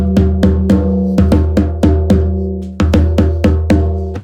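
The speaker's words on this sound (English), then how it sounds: "and you'll have a really nice, resonant, bouncy drum." A tuned drum is struck again and again in a quick, steady pattern, each hit ringing out with a resonant, bouncy tone and a lingering overtone, loud and close with nothing else heard.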